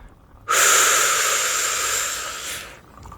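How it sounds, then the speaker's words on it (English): A deep, steady inhale drawn through the nose during a candlelit breathing exercise, a close, breathy rush of air lasting about two seconds and then stopping abruptly. "And breathe in"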